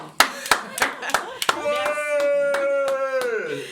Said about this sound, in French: On applaudit fortement.